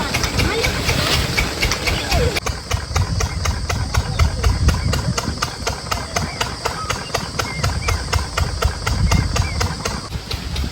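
A farm engine, likely a pump engine, runs steadily and close by in a rural bathing spot where livestock are being washed, its chugging drone continuous throughout with splashing water and occasional voices in the background.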